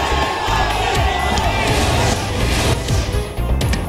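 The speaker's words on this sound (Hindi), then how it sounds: "भुवनेश्वर की सड़क पर पीएम का रोड शो, सड़क किनारे पीएम को देखने के लिए जुटी भारी भीड़" Large crowd cheering along a street during PM Modi's roadshow in Bhubaneswar, with dense continuous shouting and clamour and scattered sharp bangs throughout.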